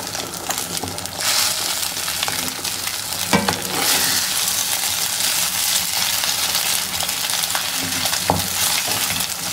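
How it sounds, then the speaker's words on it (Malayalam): Beaten egg fries in hot sunflower oil with a loud, steady sizzle, broken by occasional scraping and tapping as it is stirred and broken up in the pan. No one speaks. "ചൂട എണ്ണയിലേക്ക് നമുക്ക് ഈ ബീറ്റ് ചെയ്ത് വെച്ചിരിക്കുന്ന മുട്ട ഒഴിച്ചു കൊടുക്കാം."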